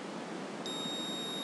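An Arduino-controlled buzzer switches on partway through, giving a sudden steady, high-pitched electronic beep that holds unbroken to the end over a quiet background hiss.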